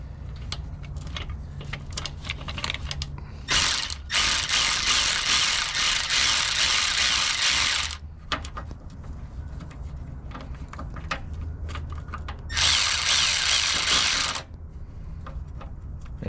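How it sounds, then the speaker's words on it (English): Ratchet clicks sound close up under a Ram 3500 as a socket on an extension loosens bolts, with steady rapid clicking in long runs broken by short pauses and fumbling. "it's a little tight to get the bolts out with the socket in place"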